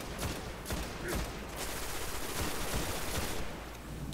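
Gunfire in Destiny on PS4 during an Iron Banner match with hand cannons, sharp shots cracking at an irregular pace over a dense, steady background of battle noise.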